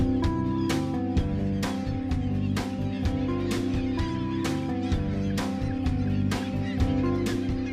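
A seabird colony on Gull Island in Alaska calling nonstop, many harsh overlapping cries repeating in a dense, loud chorus close by.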